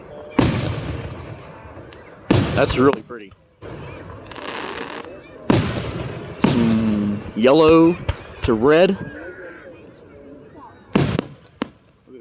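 Big aerial fireworks shells at a Fourth of July display burst in loud, sharp booms, several spaced across the stretch with crackling glitter trails between them, while a person talks over the show.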